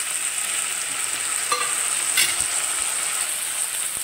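Onion, green chilli and tomato sautéing in a pan, a steady bright sizzle with a couple of brief scraping stirs, close and continuous with no talking.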